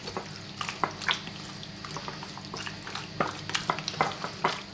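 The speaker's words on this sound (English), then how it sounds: "Simply going to give that a mix, and then that's done, ready." A spoon mixing creamy chicken and potato pie filling in a bowl, with irregular wet stirring scrapes and soft clinks, fairly close and moderately quiet with no talking.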